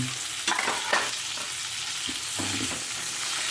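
Butter sizzles steadily in a pan while a steak cooks, a continuous close hiss with a few brief clinks of a spoon against the pan near the start and no talking.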